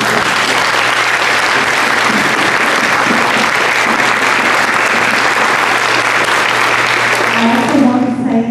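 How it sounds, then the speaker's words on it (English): Sustained applause from an audience at a Texas State Representative District 2 candidate forum, a dense, steady wash of many hands clapping that carries on for several seconds before tapering at the end. "I hope that you'll join me in giving each of them a round of applause"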